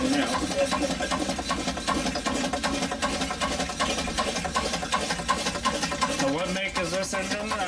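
A small Sega engine runs inside a garden shed, giving a steady, dense mechanical chatter that continues without a break. Its level stays even throughout, and there is a slight shift near the end.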